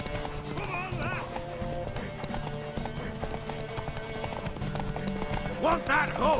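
In The Witcher 3, a horse's hooves clip-clop at a gallop with repeated whinnies and neighs, while game music and character voices talk over it.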